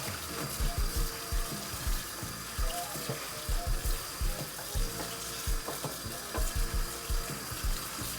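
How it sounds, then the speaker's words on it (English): Tap water runs into a sink while collard greens are rinsed by hand, a steady hiss of flowing water broken by soft splashes and rhythmic swishing of leaves, close and alone without talk. "now we're gonna wash our greens"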